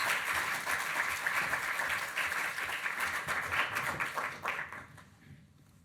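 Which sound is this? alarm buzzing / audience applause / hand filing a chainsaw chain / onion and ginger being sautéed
audience applause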